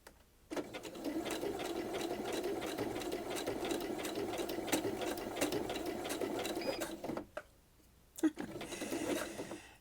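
A sewing machine running steadily for bobbin work embellishment on an art quilt, a close, even mechanical whir. It stops briefly near the end, then restarts with a short burst.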